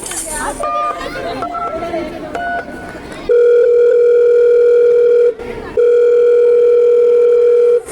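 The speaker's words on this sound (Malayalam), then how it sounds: "അവളെ വിളിച്ച് തിരക്കി നോക്കാം" A telephone's ringing tone plays loud and steady in two long beeps, separated by a short gap, while calling a friend during a student skit. It follows a stretch of overlapping voices and chatter.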